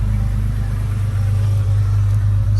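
A Jeep 4.0 engine idles steadily after a throttle body repair, giving a loud, even low rumble that holds without break from start to finish, with no talking.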